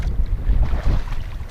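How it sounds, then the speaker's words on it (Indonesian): Strong wind buffets a microphone on a boat out at sea during squid fishing over a reef, a loud, steady low rumble with gusting swells and no speech. "Anginnya."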